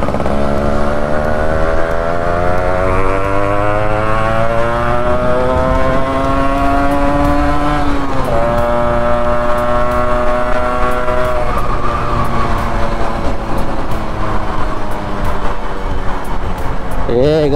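A Yamaha RX 100 motorcycle engine revs loudly up close, its two-stroke note climbing, dropping sharply near the middle, then rising again with crackling bursts, while a voice speaks briefly over it.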